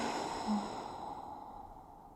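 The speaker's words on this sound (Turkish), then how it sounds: "Bir tane daha derin nefes. Bırak ağzından." A long, soft exhale through the mouth, close and breathy, fading gradually to quiet.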